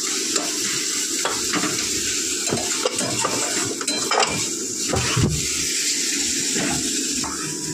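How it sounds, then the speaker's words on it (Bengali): Oil heating in a hot kadai (wok) on a home kitchen stove before cooking chicken, giving a steady loud sizzle and frying hiss throughout, with occasional clinks and stirring sounds and no talking. "তো চলো একটু কড়াতে তেল দিয়ে দিই।"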